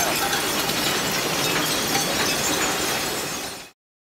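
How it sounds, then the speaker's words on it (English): A vibratory feeder at a glass recycling plant rattles continuously as broken glass trickles in, a dense, loud, steady crunching clatter with no pauses until it cuts off abruptly near the end. "that's what that vibration you hear there, that's a vibrating feeder. So you can hear the glass just trickling in"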